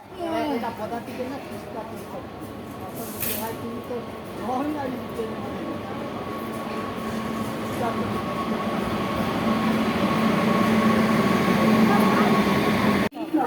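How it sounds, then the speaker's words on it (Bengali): Train pulling into a station platform on an Indian rail route, a steady rumbling roar building louder over the clip with a sustained tonal hum, while people chatter and talk nearby. "ট্রেন আসতেছে, রেডি হতেছে।"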